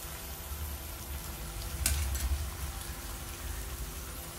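Parotta pieces tossed into a pan of cooked capsicum give off a quiet, steady frying sizzle, with a brief clatter of stirring partway through.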